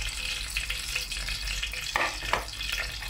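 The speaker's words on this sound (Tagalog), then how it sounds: "Igigisa na natin yung ating unahin natin yung" Onion sautéing in a pan as the base for salmon sinigang, a steady close sizzle and crackle with a few brief stirring scrapes near the end, no voices.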